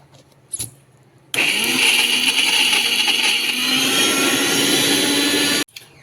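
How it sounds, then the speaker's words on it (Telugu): A mixer grinder grinding coconut whirs loudly and steadily for about four seconds, starting abruptly after a brief quiet thump and cutting off just as suddenly. "ఇప్పుడు మిక్సీ వేసేసుకుందామండి."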